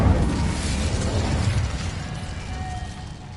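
A fire spell cast in Hogwarts Legacy, a loud whooshing, crackling burst of flame that roars at once and slowly fades over a few seconds, with a brief whistling tone near the end.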